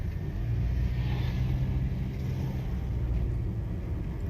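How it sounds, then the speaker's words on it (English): A car driving through Odekpe in Ogbaru, Anambra State, Nigeria, heard from inside as a steady low engine and road rumble with faint hiss, no voices over it. "we are driving inside Odekpe"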